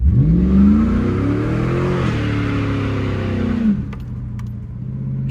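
A police-package Camaro with a replaced 4L60E transmission does a burnout on Corvette wheels, its engine revving hard and loud with rising and falling pitch for several seconds before dropping abruptly to a lower steady drone.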